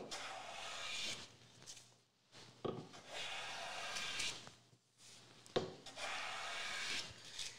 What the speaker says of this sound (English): And in the process of planing, you're going to watch to see where the first bit of shaving appears.